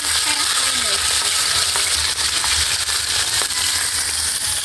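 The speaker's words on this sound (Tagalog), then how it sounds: "Fry muna yung ano natin, yung karne." Meat sizzles and fries loudly in a pan, a dense, constant crackling hiss running unbroken from start to finish, close and with no talking over it.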